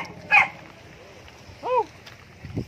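A dog on an island trekking trail gives a couple of short, yelping barks spaced apart, mid-distance, amid light outdoor background noise.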